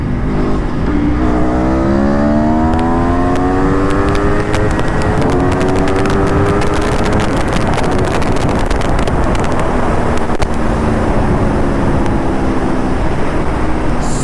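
An Aprilia Tuono V4 motorcycle in sport mode accelerates hard, its engine note climbing loud and close through rising sweeps, with a gear change midway, under heavy wind rush.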